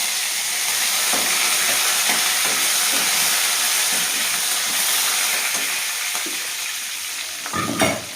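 Curry leaves and mint frying in a pan for a mint chutney, giving a loud, continuous close sizzle with soft periodic stirring scrapes and a brief clatter near the end.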